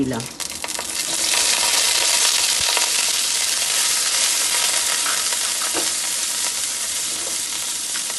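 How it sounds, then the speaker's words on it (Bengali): Pieces of paneer sizzle steadily in a hot pan while cooking for a Badshahi pulao, a dense, even frying hiss with a few small clinks near the start. "এবার আমি এর মধ্যে এই টুকরো করা পনিরটা দিয়ে"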